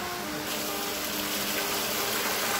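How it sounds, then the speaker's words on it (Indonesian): A hidden waterfall in Balaba forest pours in a constant broadband roar, close and loud with no break or voices. "Nah, ini spotnya masih air terjun ini"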